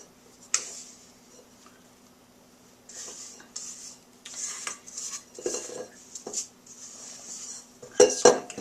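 A spatula scrapes cake batter from a mixing bowl with intermittent clinks and scratchy scraping strokes, moderately close, in irregular bursts with quiet pauses between them and a sharp clatter near the end.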